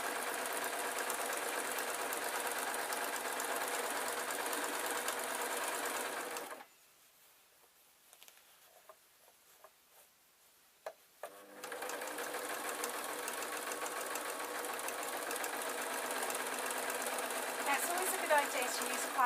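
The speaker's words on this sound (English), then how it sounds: "So all I'm doing is sewing around the outside of this." Sewing machine running around the edge of a quilt with wadding and backing, a loud steady close-up whir that stops for about five seconds of near silence before resuming just as continuously.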